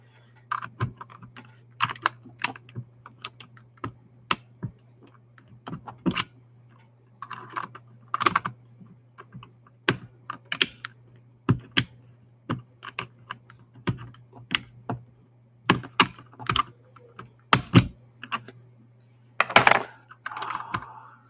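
A run of lubed Keychron K4 keyboard switches pressed over and over, giving irregular muted clacks and taps. The keys are close by, with some louder rattling strikes scattered through the run.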